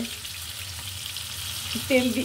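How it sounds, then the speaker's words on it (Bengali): Fish frying in oil rendered from the fish itself, a steady hissing sizzle in a pan throughout, close and even, with a brief voice near the end. "মাছের তেল দিয়েই মাছ ভাজছি"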